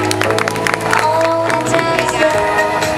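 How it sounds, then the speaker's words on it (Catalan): Audience applause at a Catalan casting event for the Cucafera princess and knight, a dense steady clatter of clapping from the crowd mixed with music and a few voices throughout. "Un fort aplaudiment per tots ells."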